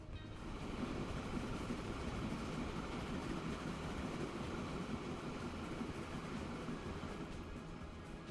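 Train rolling along in Transport Fever 2, a steady broadband rumble with a continuous rattling texture, moderately loud and constant throughout with no voices.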